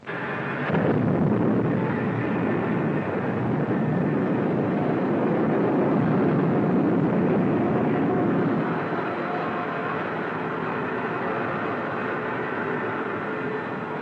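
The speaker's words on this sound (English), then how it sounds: "The XV-5's ready to be dispatched. Order to XV-5. Blast off." A rocket ship blasting off in a retro science-fiction serial, heard as a loud, steady roaring rumble that surges in at the start and holds for over ten seconds before easing slightly.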